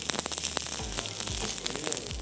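Onions sizzle on a hot sizzler platter for a vegetable sizzler, a steady close crackling hiss with scattered pops and a low hum underneath, no voices.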